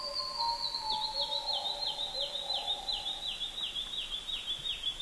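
Wild birds singing in a Papuan jungle: a loud, repeated series of descending whistled notes carries steadily throughout, with lower warbling calls underneath for the first few seconds and no voices.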